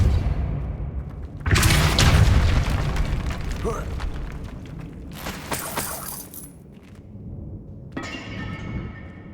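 Depulso spell cast in the video game Hogwarts Legacy: a loud booming burst with a rumbling blast that fades, followed by further crackling magical effects, with voice heard around it.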